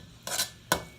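Chopped vegetables for Trinidad coucou tossed in a metal cooking pot, two quick scraping clatters of a utensil against the pot, close and distinct, no voices.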